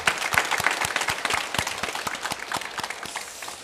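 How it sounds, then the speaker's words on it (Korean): A church congregation claps in applause after thanks for a 25-member short-term mission team, with distinct hand claps sounding in a loose, uneven rhythm that thins out toward the end. "다시 한번 큰 박수로 한번 영광 돌려드리겠습니다."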